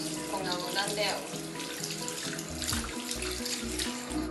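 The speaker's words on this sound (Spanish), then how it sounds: "Primer paso, tenemos que mojarnos las manos con abundante agua." Hands are wet under a running sink tap at the start of a handwashing demonstration, a steady close splashing hiss of water that stays fairly quiet throughout, with a voice speaking under it.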